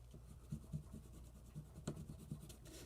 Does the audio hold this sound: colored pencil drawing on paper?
yes